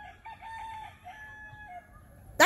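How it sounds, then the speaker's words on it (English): A chicken crows in a few short tonal bursts, moderately close and clear over a quiet background, followed by a sudden loud noise at the very end. "That's right, chicken."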